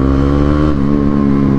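A motorbike engine runs loud and close, a steady continuous rumble without breaks or obvious revving.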